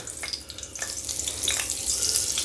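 Butter sizzling and crackling in hot oil in a kadhai, a steady bright fry with small pops and spits, close and alone with no talk.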